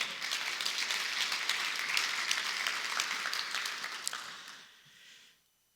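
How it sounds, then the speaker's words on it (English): Audience applause at an afternoon workforce solutions talk, a dense steady clapping from a crowd that carries on for about four seconds, then fades quickly into quiet. "Another round of applause for Philip."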